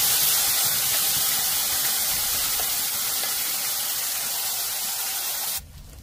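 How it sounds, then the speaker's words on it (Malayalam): Ripe mango pulp sautéing in hot ghee gives a loud, steady broadband sizzle and hiss that runs unbroken, then drops abruptly near the end. "നമുക്ക് നെയ്ക്കകത്ത് ഈ മാമ്പഴം നന്നായിട്ടൊന്ന് വഴറ്റിയെടുക്കാം."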